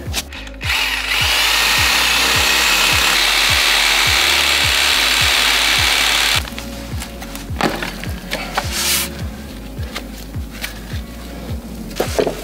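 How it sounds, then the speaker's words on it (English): A reciprocating saw fitted with a pruning blade cuts through roots in a putting green's collar, a loud steady rasping buzz with rapid regular strokes for about six seconds, then stopping, followed by quieter scraping and handling noises. "They're actually a pruning blade, and they cut through branches and stuff a whole lot faster than a Sawzall blade does."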